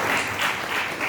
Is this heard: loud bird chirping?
no